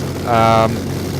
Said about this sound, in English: And the mighty Griffon engine roars into life.